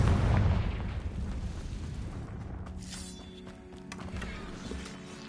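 A Confringo blasting spell explodes in Hogwarts Legacy, opening with a loud, deep boom that fades into a long rumbling tail over low game ambience and faint mechanical tones.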